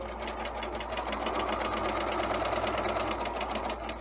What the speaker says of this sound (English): We'll back stitch a couple of stitches, and then we'll stitch up to our first point.